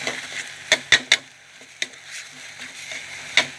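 Minced pork and holy basil leaves stir-fried without oil in a pan, sharp spatula scrapes and metallic clinks at an irregular pace over a steady close sizzle.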